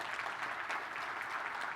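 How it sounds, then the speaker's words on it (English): A conference audience applauds in a steady, even wash of clapping heard from a distance at low volume, with no talk over it. "so if we can give them a round of applause"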